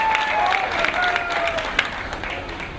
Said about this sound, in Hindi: आप जोरदार ताली बजा के इसका स्वागत करिए।